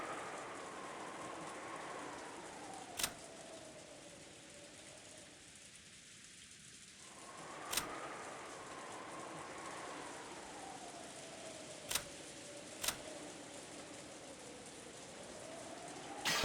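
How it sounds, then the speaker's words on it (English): Rain and wind sound effect in the Umineko visual novel, a steady hiss of rainfall with a slowly rising and falling whistling gust, punctuated by a few sharp, sudden cracks. "Sound of the wind and rain began to fill the room bit by bit."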